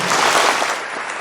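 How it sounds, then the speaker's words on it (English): Audience applause at a fundraising event in Cochrane, Alberta, a dense burst of clapping from a crowd, loud and close, fading slightly toward the end. "One more round of applause for this guy."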